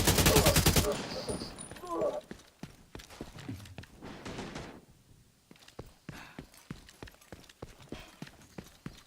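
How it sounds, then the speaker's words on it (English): Sharp gunshots crack out in scattered bursts in The Division 2 video game, some near and loud, others fainter, with a dense blast at the start and clattering impacts between. "Some gunfire here"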